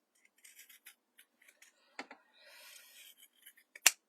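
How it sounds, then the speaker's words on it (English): Pinking shears snip through fabric and elastic for a sleep mask in a series of quiet, close crisp cuts, ending in one sharper snap. "This is where you need a good pinking shears."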